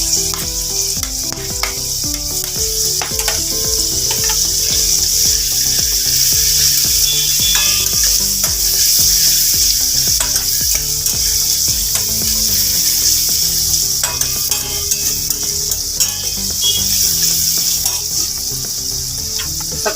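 Chopped onion sizzles and fries loudly and continuously in a hot pan for a veg momo filling, with occasional stirring scrapes and no talking.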